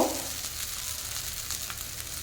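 Chowmein being stirred in a pan with chopped onion, cucumber and green chilli, a steady soft sizzle running throughout with light stirring scrapes, a brief louder touch at the start, no talking.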